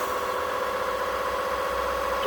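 A floor washer runs its self-cleaning cycle with the brush roller turning, producing a continuous motor hum with a faint rhythmic churning pulse underneath, close and steady, with no talking.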